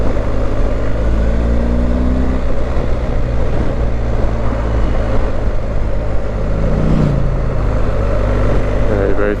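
BMW GS 1250 motorcycle engine while riding and shifting gears, a loud steady rumble with wind rush and a couple of pitch rises as gears change, close up and continuous.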